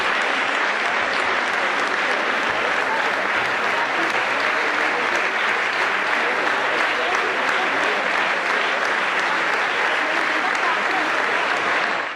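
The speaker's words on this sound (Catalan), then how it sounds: "Al president l'han aplaudit durant 4 minuts quan ha arribat." A large crowd gives President Camps a long, loud ovation at a packed public event, the dense clapping pouring on steadily and unbroken for the whole stretch.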